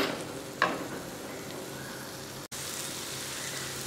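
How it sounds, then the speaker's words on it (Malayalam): Chopped onions sauté in a pan for a Kerala-style egg roast, giving a soft, steady sizzle with occasional stirring scrapes at low volume. "ഉള്ളി നന്നായിട്ട് വഴറ്റാൻ വെക്കുക"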